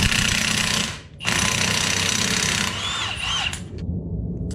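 Loud, steady power tool whine and rattle while a wheel hub comes off a Pioneer, running continuously with one brief pause near the start and tapering toward the end.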